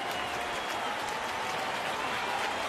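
A baseball stadium crowd in Detroit, at a Rays versus Tigers game, cheers and applauds in a continuous, loud, roaring wash of clapping and voices.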